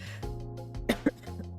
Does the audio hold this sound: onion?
no